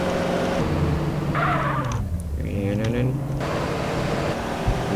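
Tires squeal as a car power slides in the game GTA San Andreas, a long screech over a droning engine while someone talks throughout.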